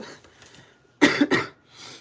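A couple of sharp, close coughs in quick succession, then a quieter breathy sound afterward.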